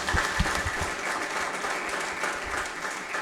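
Audience applause at a church prophecy gathering, a steady dense wash of many hands clapping throughout, moderately loud with no talking over it.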